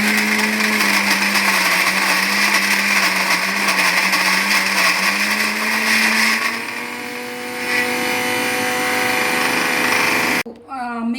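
A mixer grinder whirs loudly and steadily as it grinds ponnaganti leaves for chutney. The motor pitch shifts partway through, then the grinder stops briefly near the end before restarting.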